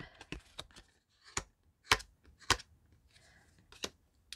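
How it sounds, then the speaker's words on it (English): A deck of stiff tarot cards is shuffled quietly, producing irregular dry snaps and light clicks with short pauses between them. "it just doesn't shuffle as nicely as I was hoping"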